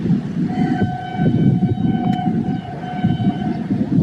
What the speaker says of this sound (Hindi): HJMU30 का स्वीट विसल और 149 अब मेरान एक्सप्रेस पहुंच रही है लांडी रेलवे स्टेशन।